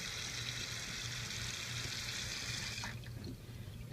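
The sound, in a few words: hot water running for soaking and wringing out a cloth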